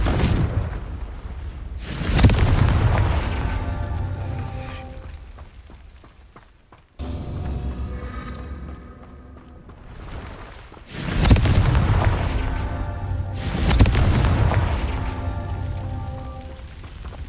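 Confringo fire spell blasts in the game Hogwarts Legacy, several loud booming explosions with long rumbling decays, spaced a few seconds apart, with no talking.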